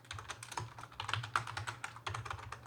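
Close, quick typing on a computer keyboard, with an irregular run of soft key clicks and taps and no speech.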